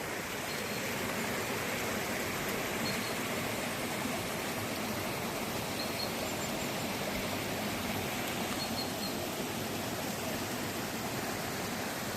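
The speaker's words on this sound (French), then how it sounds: "On a la petite cascade." A small waterfall feeding a river stream pours steadily, a dense continuous rush of water filling the whole stretch at moderate level with no voices.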